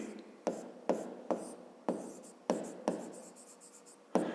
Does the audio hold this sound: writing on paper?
yes